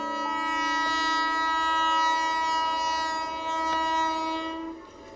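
A train horn sounds in one long sustained blast, loud and steady with layered tones, over the rumble of a passing train, then cuts off near the end.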